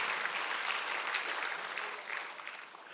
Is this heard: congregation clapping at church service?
yes